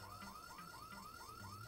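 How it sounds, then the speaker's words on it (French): An asylum alarm in a video game wails in a fast repeating rising warble, steady and continuous, with a low pulsing tone beneath, no voices. "je pensais pas que ça allait pull l'alarme en même temps"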